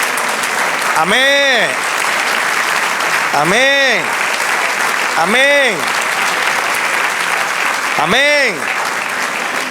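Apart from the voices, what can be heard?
congregation applauding in church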